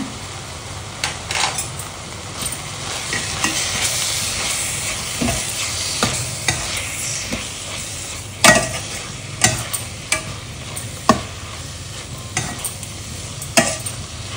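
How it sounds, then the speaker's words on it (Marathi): Kurdu wild leafy greens are sautéed in a pan with salt for a Marathi bhaji, giving a soft continuous sizzle and hiss. Scraping spatula stirs and clacks against the pan break through at irregular moments, close by and with no voices. "चांगली परतून घ्यायची।"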